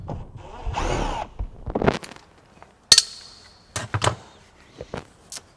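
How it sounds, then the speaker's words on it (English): Bolt removal from a Jeep Cherokee door panel, with a short whirring burst from a power tool, then sharp metallic clicks and clunks as the bolt and panel are worked loose, close and intermittent. "So I'm going to go ahead and take that bolt out up there"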